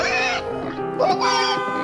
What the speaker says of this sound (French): il a chopé un porc en fait, une sorte de porciné